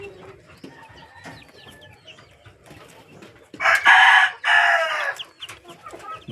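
A backyard hen clucks in soft, scattered notes, then lets out two loud, drawn-out calls close by, one right after the other.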